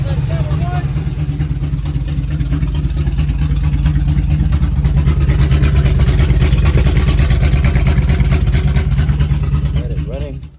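The engine of a 1978 Chevrolet C10 truck runs at a loud, steady idle with a throbbing low rumble, close up, with a voice briefly speaking over it.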